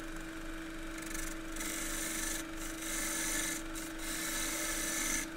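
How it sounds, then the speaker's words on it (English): A 3/8 spindle gouge cuts the bottom of a freshly cut Japanese maple bowl on a lathe. The steady rasping scrape holds under a constant motor hum, with brief lighter passes, close and even. "I usually do that with the 3/8 spindle gouge."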